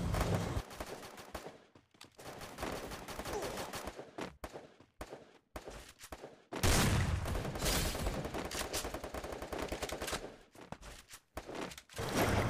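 Rapid video game gunfire on a training ground full of enemies, with dense bursts of shots and brief pauses, loud and continuous, no voice.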